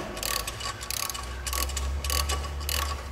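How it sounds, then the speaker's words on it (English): A Tite-Reach extension tool is ratcheted by hand, producing rapid bursts of clicking from the pawl, repeated several times in a close, distinct rhythm with short pauses between strokes. "I'm ratcheting up here,"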